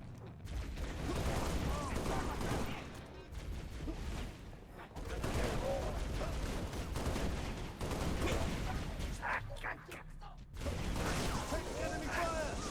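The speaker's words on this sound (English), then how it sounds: "Laying down heavy fire." Heavy gunfire in the Halo Reach shooter game: sustained loud volleys and explosive bursts over a busy battle soundscape, broken by brief lulls.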